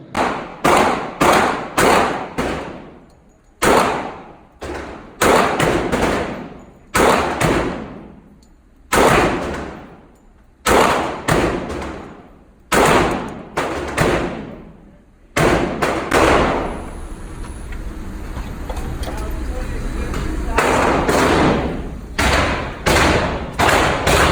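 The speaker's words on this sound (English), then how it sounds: "now you get to see a little action with the shooting" Remington R1 Carry 1911 pistol firing .45 ACP rounds outdoors: sharp, loud shots in irregular bursts, each ringing out and decaying, with short pauses between strings and a busier stretch of overlapping reports toward the end.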